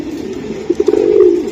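Racing pigeons coo close by in a cage, giving a low, throaty series of rolling coos that swell toward the end over faint background hum.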